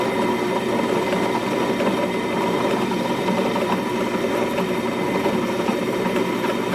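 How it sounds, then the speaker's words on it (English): A drill press bores a hole through the steel tang of a knife handle, a steady mid-pitched mechanical whir and buzz of motor and bit holding constant and fairly loud throughout, with no talking. "Alright, so now we've drilled our first hole."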